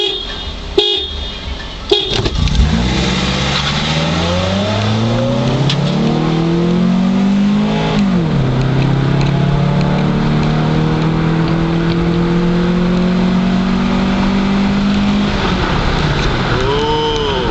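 Cars launching from a standing race start, a Nissan 350Z Nismo among them, with loud close engine revs climbing through gear changes into a sustained high roar after a brief short horn toot.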